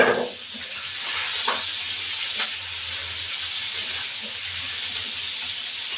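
Onions frying in oil until crisp for a Bengali mutton kosha make a steady, fairly quiet hissing sizzle. It runs unbroken throughout over a low hum, with no talking.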